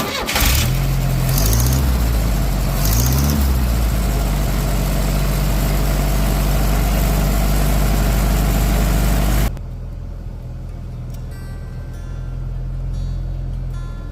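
A small gas pump engine runs after a choke start while water-well hydro-fracking is set up, a loud rough rumble that shudders at the start, then drops abruptly to a quieter idle.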